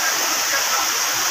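A waterfall swollen by heavy rain pours over rocks in hilly country, a loud, unbroken rushing hiss of water that fills the whole short stretch.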